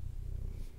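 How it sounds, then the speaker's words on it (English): A cat lying on a lap purrs with a low, steady rumble, close and soft, heard alone for a brief moment. "If you hear my cat purring, he is on my lap"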